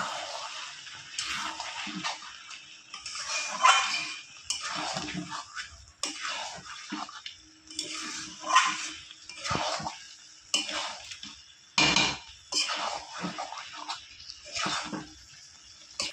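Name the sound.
chicken being stirred and cooked in pan without oil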